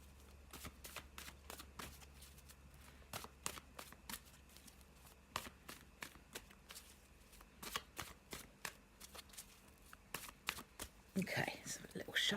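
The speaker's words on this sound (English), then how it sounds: "so a little shuffle" Tarot cards shuffled by hand in a quiet indoor setting, a run of crisp riffling snaps and soft slides over about twelve seconds, close to the listener, ending in a brief burst of handling noise.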